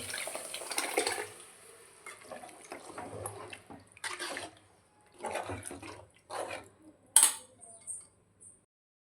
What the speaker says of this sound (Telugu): కొంచెం వాటర్ కలిపి పోస్తున్నాము